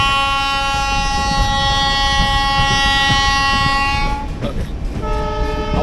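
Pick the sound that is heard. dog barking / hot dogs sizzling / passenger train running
passenger train running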